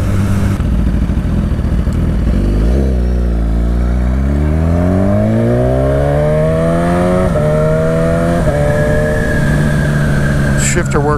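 A parts-bin motorcycle accelerates hard on a ride, its engine note climbing through repeated rising sweeps with brief dips at gear shifts, loud and close throughout and then settling to a steadier drone.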